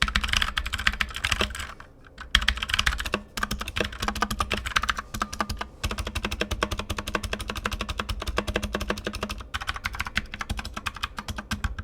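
Fast, continuous typing on a Hiwings H1200 wireless mechanical gaming keyboard, dense close clacks in quick bursts with a couple of brief pauses and no talk.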